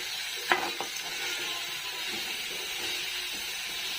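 Manchurian gravy with tomatoes frying in a pan, a steady close sizzle and hiss throughout, with a couple of brief stirring knocks near the start and no talking.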